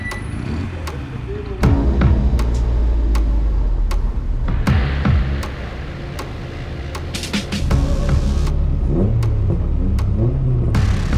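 A race car on slick tyres accelerating around a track during tyre testing, engine revs climbing and dropping in repeated bursts with sharp clicks and knocks, close and fairly loud; a voice is heard briefly.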